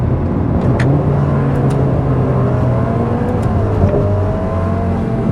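A Ferrari Roma engine pulls hard under acceleration, a loud, sustained growl with rising and shifting tones that runs unbroken for several seconds, with no voices.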